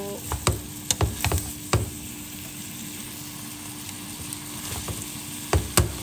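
Broccoli and shrimp stir-frying in a pan, with soft steady sizzling and several sharp clatters as the food is tossed and stirred, clustered at the start and again near the end.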